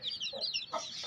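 Chickens clucking in a backyard pet bird enclosure with chicks and pigeons nearby; a few short, close clucks and squawks in quick succession, with no voices.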